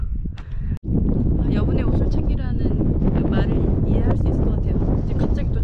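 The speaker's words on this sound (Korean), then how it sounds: "추워요 바람 엄청 부니까" Strong wind buffets the microphone beside a lake in the Scottish Highlands, a loud continuous low roar and rumble with gusty fluctuations, while a person talks throughout.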